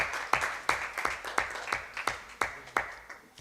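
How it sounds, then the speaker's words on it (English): Graduates at a Uganda Sign Language graduation ceremony clap for themselves in a sparse, uneven burst of distinct nearby handclaps, about a dozen sharp claps over a few seconds rather than a dense roar. "Please clap for yourselves harder."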